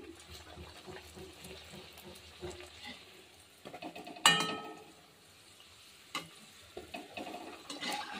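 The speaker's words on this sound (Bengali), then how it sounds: "এখন আমি তোমাদেরকে আরও একটা ভেজে দেখাচ্ছি" Hing kachori deep-fry in hot oil. Soft, close bubbling and sizzling run throughout with light utensil clatter, and a sharper burst of frying rises midway before settling back to a quiet simmer.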